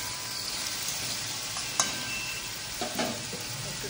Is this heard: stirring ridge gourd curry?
yes